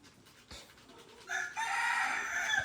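A rooster crows once, fairly loud and close, in a rural Thai home kitchen while a village chicken larb is being made, rising into a sustained call after a short cluck.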